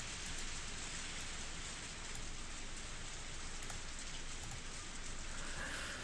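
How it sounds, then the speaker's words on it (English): Heavy rain falling hard in a Higurashi video game scene, a dense, constant hiss of downpour with no let-up, filling the whole stretch evenly and alone. "It's still raining hard."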